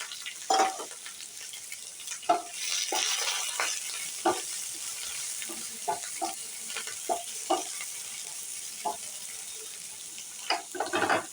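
Sliced bitter gourd fries in oil with a popped mustard seed tempering, giving a steady, close sizzle broken by frequent sharp clinks and scrapes of a spatula stirring in the pan.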